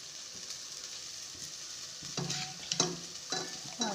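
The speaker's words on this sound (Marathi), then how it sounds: "डाळ थोडीशी अशी रगडून घ्या" Cooked dal mashed and stirred in a pan with black masala for yelvani amti, quiet sizzle followed by several distinct scraping strokes and clinks of the spoon, close and alone.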